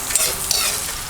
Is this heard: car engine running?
no